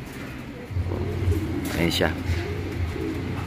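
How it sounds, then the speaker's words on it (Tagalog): Pigeons coo softly near a loft at a big house that draws birds, the low repeated calls mixed with a brief chirp and a person speaking over them. "Ang lakas talaga makahatak ng mga ibon pag may nakadapo sa malaking bahay."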